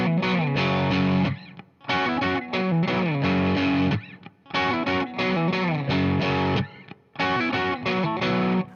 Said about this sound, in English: So we hit the power chord, then we go up, do this little lick, and then back down to the power chord.